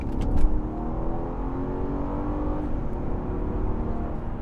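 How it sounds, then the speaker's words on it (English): A 2011 Mercedes-Benz CL500 engine revs hard and accelerates, a loud sustained roar with rising harmonics and a burst of throttle at the start. "Just give it some gas. The engine sounds awesome."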